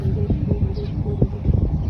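Outdoor wind buffeting the microphone in strong breeze at a kite-flying test, a steady low rumble with gusty swells throughout, loud and close.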